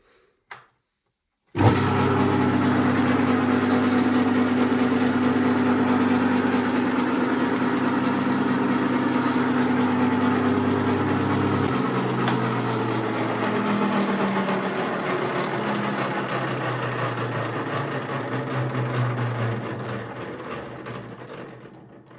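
A motor-driven 3D printed gear mechanism turning a drum shell for polishing, switching on abruptly with a steady loud whirring drone that shifts pitch partway and slowly fades lower, close and without talk.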